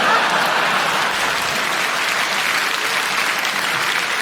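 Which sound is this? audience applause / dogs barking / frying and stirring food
audience applause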